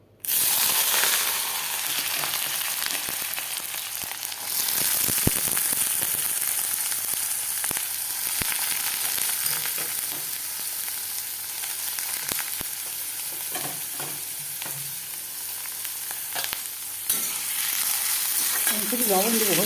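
Vegetables and ingredients for a cheesy pasta sizzle loudly in white cooking oil in a pan, a steady close frying hiss with occasional stirring clatter throughout.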